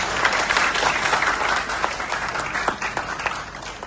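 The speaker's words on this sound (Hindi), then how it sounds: "तो जरा अच्छा ताली बजाइए।" An audience at a university event applauds, dense sustained clapping from many hands filling the room, loud and continuous with no pauses.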